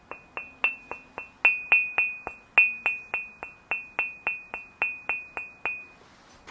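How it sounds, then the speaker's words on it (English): A ceramic mug is tapped repeatedly, giving about twenty bright, ringing clinks in a fairly steady rhythm, close and clear in a quiet room. "Proper mug sound,"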